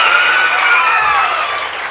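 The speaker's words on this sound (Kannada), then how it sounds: "ಮತ್ತೆ ಚಪ್ಪಾಳೆ." An audience at a gathering breaks into dense, sustained applause that fills the space evenly and tapers slightly toward the end.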